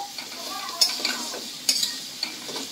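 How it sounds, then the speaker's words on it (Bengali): Bottle gourd peel frying and being stirred in a pan, with a soft steady sizzle broken by a few sharp scraping clinks of a utensil against the pan. "ভাজতে থাকবো"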